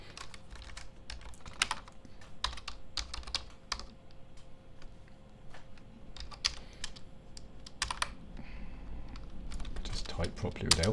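Keys clatter on a computer keyboard in quick, uneven bursts with short pauses, close and fairly quiet, with some faint talking underneath.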